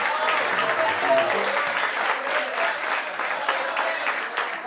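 A concert audience applauds a musician in a saw and piano recital, with dense, sustained clapping and faint crowd murmur throughout, fairly distant and even in level.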